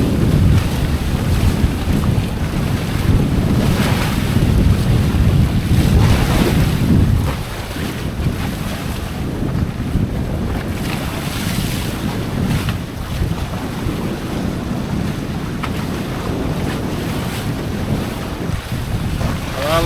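A Hobie Cat 16 catamaran pounds through a rough, windy sea, with constant roaring wind buffeting the microphone and waves splashing and rushing close around the hull.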